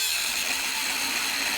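A drill bores out a larger hole for a bushing, using a cutter made from a 20mm hexagonal nut, as part of building a manual rotary paddy weeder. It gives a steady, loud, high-pitched whine that runs unbroken for the whole stretch, with no voices.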